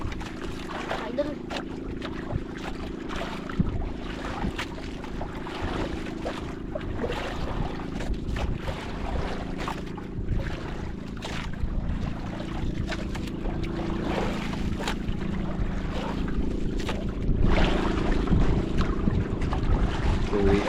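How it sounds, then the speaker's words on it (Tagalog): A fishing boat out at sea on the way home, its steady low engine drone running throughout, with wind buffeting the microphone and a few voices calling out now and then. "Ang bangka oh."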